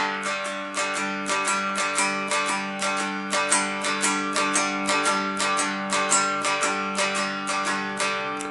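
A cigar box guitar strums twelve-bar blues chords in a steady, even rhythm of bright, ringing strokes, played alone and up close with no talking.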